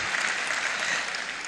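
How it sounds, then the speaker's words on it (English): Audience applause at a welcome address, a dense, steady burst of clapping from a crowd, loud and unbroken from start to finish with no voices over it. "please put your hands together for her"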